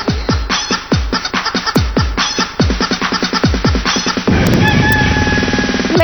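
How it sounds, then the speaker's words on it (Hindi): A chicken being chased squawks and clucks in a rapid burst of loud, close calls. The calls then break into a continuous frantic squawking flurry that lasts to the end. "अग कोंबडी पळाली तंगडी धरून लंगडी घालाया लागली"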